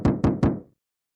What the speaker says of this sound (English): I heard a violent banging on the door.